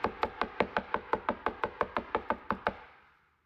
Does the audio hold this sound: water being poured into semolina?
no